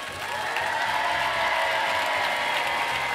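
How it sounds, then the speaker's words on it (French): A television studio audience applauds steadily as a guest, Maria Lucia, is welcomed onto a Christmas Eve game show, a dense, even patter of clapping with a low rhythmic thump underneath. "Je voudrais qu'on accueille et qu'on applaudisse Maria Lucia"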